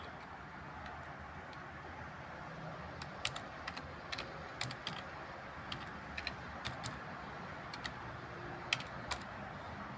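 Quiet keyboard keystrokes come in irregular clusters as a Wi-Fi password is typed, soft clicks over a low background hum with no talking.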